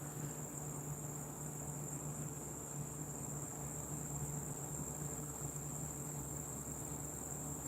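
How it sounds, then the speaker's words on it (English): Crickets chirp in a steady, continuous outdoor drone that holds evenly throughout, with a constant hum running underneath and no voices. "The crickets are relaxing."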